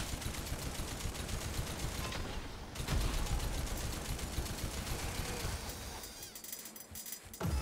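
Rapid gunfire from the video game Scathe, a dense, continuous spray of shots layered with mechanical clatter and game effects, loud and steady throughout with a brief dip near the end.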